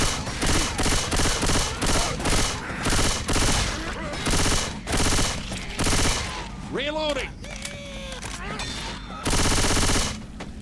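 Rapid bursts of gunfire from the zombie shooter Left 4 Dead 2, loud and close, with repeated automatic volleys, brief pauses and other game effects mixed in.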